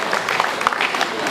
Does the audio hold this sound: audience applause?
yes